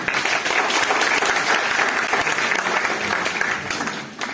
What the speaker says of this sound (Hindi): इन सभी साथियों के लिए एक बार जोरदार क्लैपिंग कर देंगे